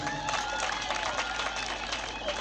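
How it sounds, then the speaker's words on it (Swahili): A church congregation clapping and cheering for Jesus during a worship service, a steady, dense wash of applause that fills the whole stretch at a fairly even level. "mpigie Yesu makofi ukiweza"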